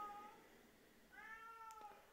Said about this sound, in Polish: O, kot miauczy.